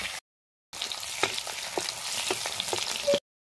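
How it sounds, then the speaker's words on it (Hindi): A steady, hissing sizzle of chilli and onion frying in hot mustard oil, close up, with small crackles and pops throughout and no talking. "तेल गरम हो चुका है दोस्तों, अभी इसमें हम लोग मिर्चा और प्याज का छौंका लगा दे रहे"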